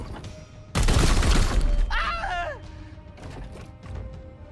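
Weapon fire in Warhammer 40K Chaos Gate Daemon Hunters: a loud, sharp blast with shattering crash and rumbling debris, followed by a whooshing energy trail and fading clatter.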